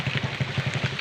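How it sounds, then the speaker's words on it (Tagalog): Steady rain falling outdoors in the countryside, a dense continuous hiss with a low rumbling undertone and no voices over it. "So papatila tayo ng ulan."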